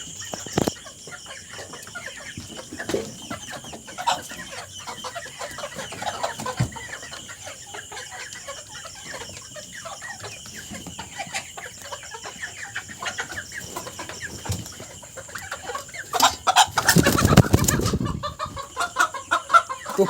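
Desi chickens on a farm cluck and squawk in scattered bursts while being caught in a darkened shed, with a loud flurry of flapping and agitated calls near the end.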